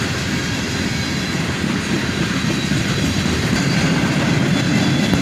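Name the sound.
CSX freight train with old Chicago Northwestern cars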